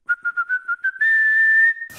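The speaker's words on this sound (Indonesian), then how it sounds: "kayak gitu suara siulan" Whistling picked up by a CCTV camera: a short series of quick, evenly spaced chirping notes, then one sustained steady tone, fairly clear against a quiet background.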